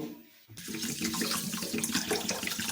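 Water splashes from a tap onto Gobindobhog rice and masoor dal in a pot, starting abruptly after a brief quiet moment and then pouring as a steady, close rushing stream.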